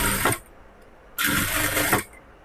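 A sewing machine stitches a straight blouse seam in two bursts, a short run then a longer one of about a second, its fast mechanical whir loud and close with quiet pauses between.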